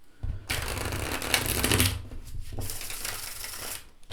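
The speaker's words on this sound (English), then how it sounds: "I'm just going to show you how this old 90s US Games cardstock shuffles" Two quick riffle shuffles of an old 1990s US Games cardstock tarot deck, a dense flapping rattle of cards close up, each lasting about a second or two with a brief pause between.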